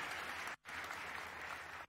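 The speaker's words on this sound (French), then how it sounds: "So give a good clap to him and others" Steady crowd applause at a prophetic church conference in Cameroon, fairly faint and distant, with one brief gap before the clapping resumes until the end.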